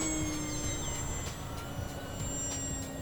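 A HobbyKing Tuff Trainer II RC model plane's engine whines steadily overhead while flying inverted, a thin high-pitched buzz holding fairly level against faint outdoor background noise.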